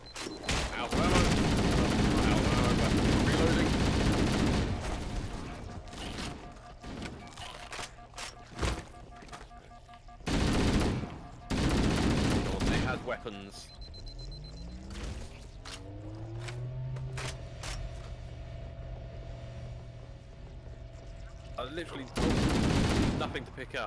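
Long bursts of automatic gunfire in Halo: Combat Evolved come in loud, dense volleys separated by quieter gaps of game ambience and mechanical sounds, with further rapid fire near the end.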